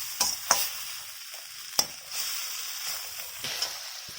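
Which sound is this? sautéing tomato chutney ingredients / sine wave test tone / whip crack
sautéing tomato chutney ingredients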